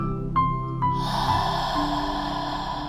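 A single deep, drawn-out inhale during a guided meditation begins about a second in and hisses on steadily over soft sustained background tones, after two brief faint breaths.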